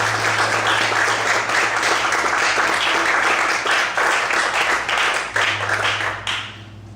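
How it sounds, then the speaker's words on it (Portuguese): A church congregation applauds loudly, a thick, continuous wall of clapping from many hands over a low steady hum, tapering away in the last second. "vamos aplaudir bem forte ao Senhor Jesus"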